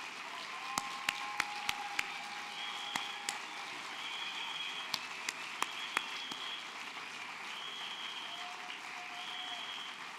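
Sustained applause from a large crowd at the 2014 New York Democratic Convention fills the space, with scattered sharper claps standing out and a few faint whistles.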